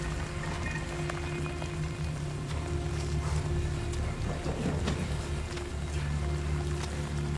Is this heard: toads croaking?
no